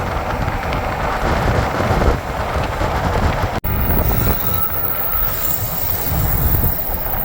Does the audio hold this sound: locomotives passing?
yes